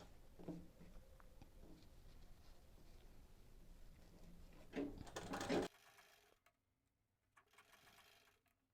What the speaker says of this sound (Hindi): ये इस प्रकार से पूरा फोल्ड करते हुए हम इसमें सिलाई चलाएंगे।